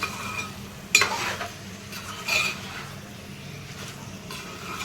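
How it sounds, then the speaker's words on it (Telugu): Chicken curry pieces coated in chili powder stirred in a pan, with a soft sizzle underneath and a couple of louder scraping strokes of the spoon against the pan. "ఈ కారం మొత్తం ముక్కలకు పట్టేలాగా ఒక 2 నిమిషాలు కలుపుకొని మూత పెట్టుకుందాం"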